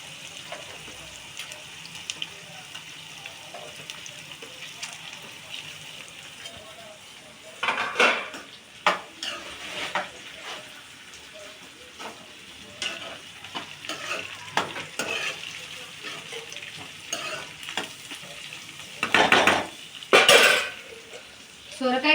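Sliced onions frying in oil in a pan for a leafy greens dish, with soft sizzle and several louder bursts of stirring and utensil clatter against the pan; no talking.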